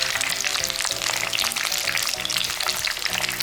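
Cabbage rolls made with pechay fry in hot oil in a pan, one batch at a time, giving a steady close sizzle and crackle that holds even throughout, with no voices.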